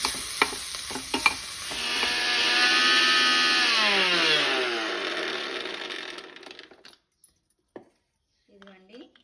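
A kitchen mixer grinder whirs as it blends roasted radish chutney ingredients and tempering spices, a few clatters and then a loud motor whine for about four seconds that winds down to silence.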